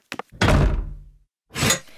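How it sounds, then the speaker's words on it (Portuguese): A door thuds shut with a heavy slam, followed a moment later by a second solid clunk like a bolt or lock being thrown. "Ziharka, tranque a porta."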